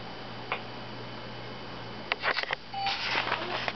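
A telephone is dialed: a series of faint clicks and short beeps sounds over a steady low hum, with a brief tone near the end.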